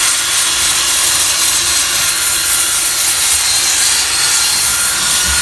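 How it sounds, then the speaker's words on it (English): An inflatable sanding drum with 40 grit sandpaper grinding a horse's hoof, a continuous loud, hissing abrasive whir that stays steady from start to finish with no speech. "I'll sand her foot"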